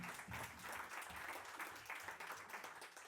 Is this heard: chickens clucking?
no